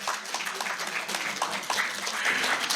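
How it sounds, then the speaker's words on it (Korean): Audience applause breaks out at the first Separated Families Day event, a steady, dense patter of many hands clapping for a few seconds without pause. "우리 박수 하죠."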